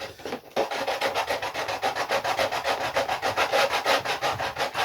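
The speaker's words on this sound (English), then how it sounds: "if I can sand that bit there" Sanding wood on a vintage aerobatic glider model, a close rhythmic scratching with about twenty quick, even back-and-forth strokes after a brief pause at the start.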